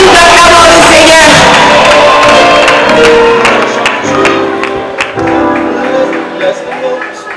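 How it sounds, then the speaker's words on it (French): A church congregation at a 25th anniversary celebration cheers, whoops and shouts loudly and applauds as the pastor approaches, with a dense crowd roar that fades slightly toward the end, under someone speaking into a microphone. "Alors qu'il s'approche, nous acclamons le Seigneur."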